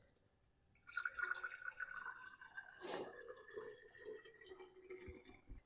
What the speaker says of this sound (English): we're just going to fill our water to that 2-cup mark.